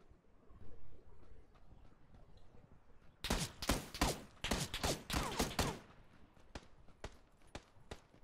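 Rapid bursts of gunfire in a battle royale video game, a dense cluster of sharp shots in the middle followed by scattered single cracks, loud and close with faint background noise.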